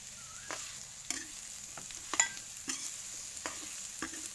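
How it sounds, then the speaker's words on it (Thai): Pumpkin and garlic stir-fried over medium-low heat in a pan, with a soft sizzle under repeated scraping and clacking strokes of a spatula at an irregular pace. "ผัดไปเรื่อยๆนะคะ จนฟักทองสุกนะคะ"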